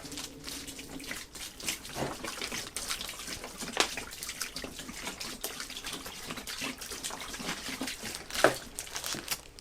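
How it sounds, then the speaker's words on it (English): Water poured from a jug into a bucket to rinse a tanned whitetail deer hide, a steady splashing wash with small sloshes and drips, close and moderately loud, with no talking. "I'm just gonna rinse it out in this one bucket."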